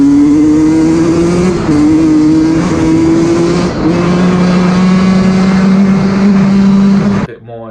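Sherco SE enduro motorcycle engine revving hard and close, a loud sustained buzzing drone with slight pitch changes as revs build, cutting off near the end.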